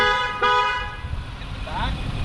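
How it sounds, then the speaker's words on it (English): The horn of a 2020 Infiniti QX80 sounds a loud, near blast lasting about half a second, followed by a shorter, fainter toot over the hum of the car's interior. "this is what the horn sounds like"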